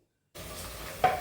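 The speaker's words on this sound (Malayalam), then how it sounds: "ശർക്കര അതാ ഉരുകിക്കൊണ്ടിരിക്കുന്നു" Jaggery melts in a pan for unniyappam; after a moment of silence a soft, steady sizzle starts up close, swelling into a louder bubbling burst near the end.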